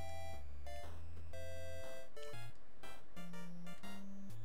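A wristwatch in the Dick Tracy NES game gives a run of electronic beeps in quick bursts, set against chiptune music with shifting bass notes, and no voices.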